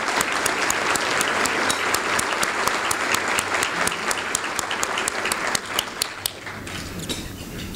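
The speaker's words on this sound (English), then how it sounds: "Let's give those folks a big round of applause." Luncheon audience applauding at an awards event, a dense, steady wash of many hands clapping that holds strong for most of the stretch and thins slightly toward the end, with no voices over it.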